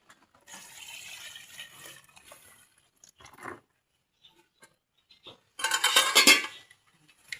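Water is poured into a pot of pork for Filipino sinigang, a loud splashing fill rising near the end after scattered kitchen clatter and a few soft knocks.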